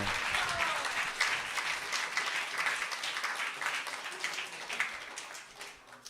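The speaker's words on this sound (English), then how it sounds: "let's give a round of applause for Janandan Maharaj for wonderful class" An audience at a Hare Krishna Sunday feast lecture claps for a guru after his class, steady applause that gradually fades toward the end.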